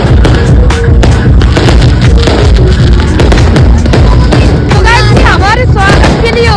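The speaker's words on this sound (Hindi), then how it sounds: "देखते हैं थोड़ी आतिशबाजी" Fireworks go off in dense, loud bursts of booms and crackles through narrow home lanes, with whistling streaks near the end over a constant roar of crowd noise.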